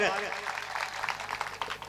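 An audience at an outdoor Hindi poetry gathering in a market square breaks into applause, a rough patter of clapping under a voice speaking over a public address system.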